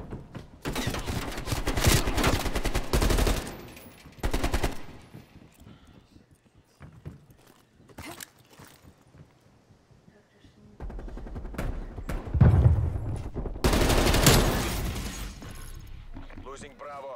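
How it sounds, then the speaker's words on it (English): Gunfire crackles in a Call of Duty Black Ops Cold War match, with dense bursts of automatic shots in several heavy clusters separated by quieter gaps, loud and close, while a player talks in between. "He's shooting at me."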